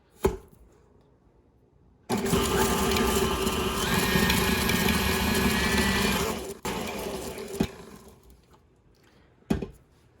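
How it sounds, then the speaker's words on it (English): An electric stand mixer creams a stick of room-temperature butter with half a cup of sugar, whirring loudly and steadily for about six seconds, then dropping to a lower hum before stopping, with clunks at the start and end. "You're going to put 1 stick of room temperature butter and half a cup of sugar into the mixer, and you're going to cream that together."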